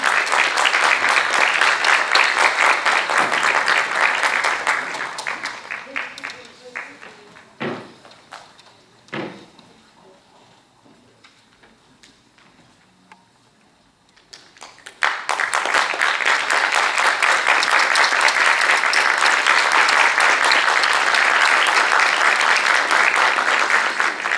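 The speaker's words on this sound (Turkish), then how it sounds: "Asıl büyük alkışlar." A large crowd at a concert plaque ceremony applauds loudly, fades into a quiet stretch with a few thuds and scattered claps, then bursts back into full, sustained applause.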